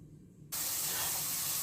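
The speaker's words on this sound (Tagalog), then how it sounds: "Fry both sides for 2 minutes." Chicken pieces hitting olive oil in a pan: after a short quiet moment, a sudden, loud, continuous sizzling hiss starts and holds steady.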